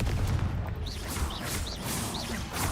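In Hogwarts Legacy, the Confringo fire spell goes off among a rapid run of combat blasts and impacts, with loud overlapping bursts and whooshing magic effects and no clear speech.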